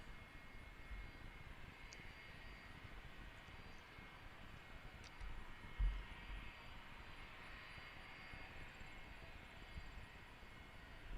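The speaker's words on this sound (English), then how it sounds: "I'm pretty sure that's that jet right there that I hear running." A jet engine runs at Allentown airport, a faint, steady distant whine and rumble that holds throughout with little change.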